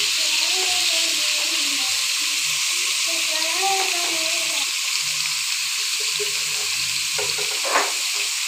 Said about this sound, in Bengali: ইঁচড়গুলো আমি আগে থেকে সিদ্ধ করে রেখেছিলাম। একটু তেলে ভাজি করে নেব।